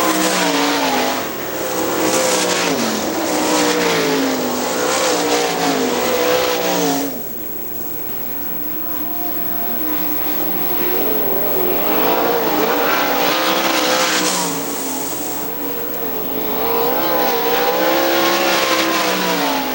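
Sprint race cars roar around Hartford Speedway Park during a 2001 Gumout Sprint Series race, engines screaming loudly as they pass. The sound dips briefly twice between passes, with a distant announcer barely audible.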